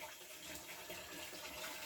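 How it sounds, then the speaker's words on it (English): A loft header tank slowly fills with water, giving a steady, soft rushing and trickling wash that runs unbroken and fairly quiet throughout. "So there's the header tank slowly filling up."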